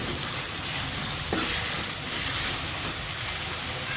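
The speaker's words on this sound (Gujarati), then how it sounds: "હવે આપણે મરચાં નાખી દઈશું. હવે આપણે ડુંગળી નાખી દઈશું. હવે આપણે મિક્સ કરી દઈશું." Chilies and onions frying in hot oil with asafoetida for masala Maggi, giving a dense, continuous loud hiss with a brief stir near the middle, close up and without speech.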